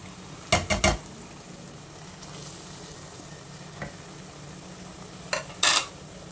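Spices get stirred into food in a pan with a few quick scraping, clattering utensil strokes at the start and again near the end, over a soft background sizzle.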